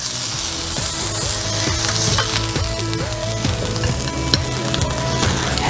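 Food frying in a pan, a steady loud sizzle and crackle throughout, with occasional stirring scrapes; no voices.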